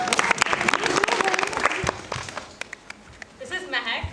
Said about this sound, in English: Could you please have a round of applause?